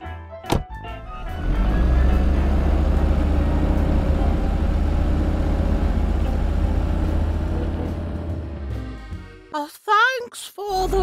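Car engine in a video game, a steady low rumble of the vehicle driving, carried for several seconds between brief thumps and other game sounds at the start and end.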